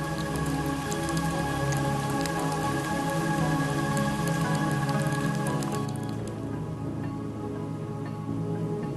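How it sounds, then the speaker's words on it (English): Rain falls steadily on volcanic mud in the Serengeti, a dense continuous patter that is loud and close, with a low rumbling bed underneath and no voices. "the world is transformed as rain churns the volcanic mud"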